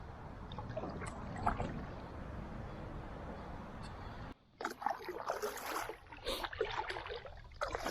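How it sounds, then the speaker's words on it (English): Rough water on the Santa Fe River ahead of a kayak, heard as a steady broadband rush that cuts off briefly, then returns as splashy, uneven bursts of moving water and paddle-like sloshing close by. "some rough water up ahead there. I can actually hear it from back here."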